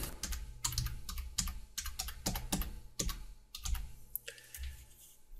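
Fingers tap out a short run of text on a computer keyboard, close and quiet, the irregular key clicks coming in bursts with brief pauses between them.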